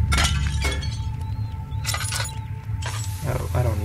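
Plate smashing in the horror video game Amnesia, several sharp crashes and shattering bursts within a few seconds, loud and close in a kitchen setting, with a player's voice talking faintly between them.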